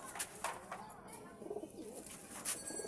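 Soft, low pigeon coos murmur in the background, mixed with faint chirps and ambient outdoor noise.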